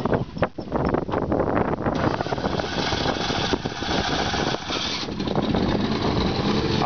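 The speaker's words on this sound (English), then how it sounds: "You can hear that 3-cylinder Kubota gasoline engine come right to life. Just sits there and purrs, very nice and smooth." A 3-cylinder Kubota gasoline engine, fitted on a 1999 GMC Top Kick C7500 forestry truck with an Altec LVRIII-55 unit, runs at a steady, smooth idle. It sounds close and continuous and is mixed with wind noise.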